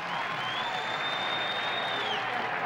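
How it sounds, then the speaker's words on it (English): Baseball stadium crowd at a Yankees–Angels game building to a loud, sustained cheer and applause on a two-strike pitch, a dense wall of noise held at full volume throughout. "Now the crowd again. They build up to every 2-strike pitch."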